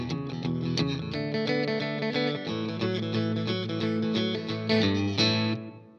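An electric guitar with chorus and distortion plays the closing rhythm hits of a song, a steady series of strummed chords, loud and close, with no talking.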